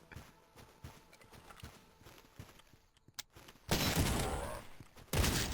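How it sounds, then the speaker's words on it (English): A lever-action rifle in the game Cultic fires a loud blast near the end, following quieter rhythmic thuds, with a second sharp shot just after. "Okay, the lever action rifle is amazing."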